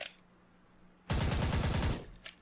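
Tommy gun from a WW2 weapons pack for video games firing one sustained burst of about a second, a loud, close rapid rattle of shots after a quiet lead-in, followed by a faint mechanical click.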